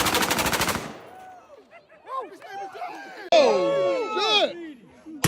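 A rapid, loud burst of gunfire crackles at a shooting range, then voices talk and chatter with sharp, uneven bursts over a quiet background.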